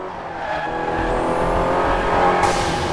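A car drives in the video game Crash Time 5 with a steady engine roar that builds slightly and adds a brief tire squeal near the end, loud and close.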